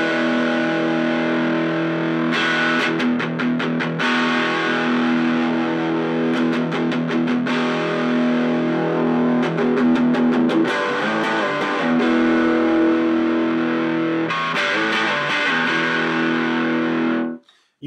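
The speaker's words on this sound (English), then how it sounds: "You can really start to hear how that ISF changes those tones from that tight Mesa Boogie sound to the open Marshall sound." An electric guitar played through a Blackstar Fly 3 mini amp at full gain with the ISF control adjusted, heavily distorted sustained chords broken by rapid palm-muted chugs and strums, loud and alone.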